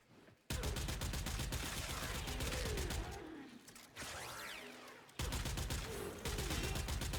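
Rapid bursts of Boar Prime shotgun fire in the game Warframe, loud blasts in quick succession with brief pauses, gun handling and effect sounds between volleys.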